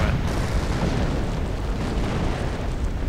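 Tank shot fired in a real-time strategy video game, a loud, continuous rumbling explosion filling the whole stretch with no voices over it.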